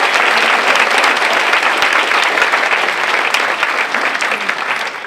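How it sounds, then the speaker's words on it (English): Vigorous, continuous applause from the audience at a college student film awards ceremony, dense clapping at full strength that eases off slightly toward the end. "Let's give them another round of applause."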